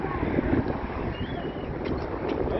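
Steady wind buffets the microphone in a constant low rumble, with faint high tones drifting above it and no talking.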